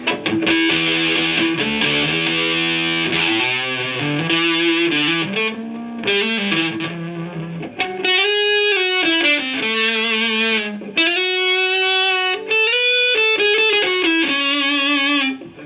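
Heavily distorted electric guitar through a Crate GT200 DSP amp with a buzzy, scooped tone plays a melodic riff, notes trailing into delay echoes, loud and continuous.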